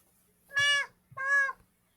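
A cat gives two clear, drawn-out meows separated by a short pause, each loud and close against an otherwise silent background.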